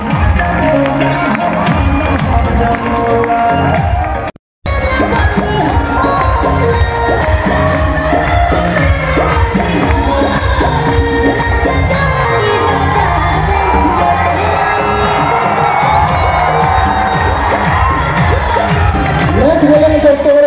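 A large crowd cheers, whoops and applauds at an outdoor recognition ceremony in Patna's Gandhi Maidan. The steady, dense roar continues loudly for the whole stretch, broken only by a brief gap, with voices shouting through it.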